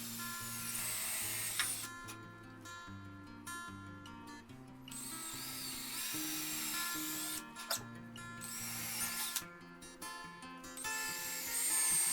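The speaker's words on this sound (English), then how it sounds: "drilled 3 countersunk holes for the screws to secure the cleat in the shelf" A power drill whirs in several short bursts, its motor pitch rising and falling as it bores holes, with brief pauses between runs.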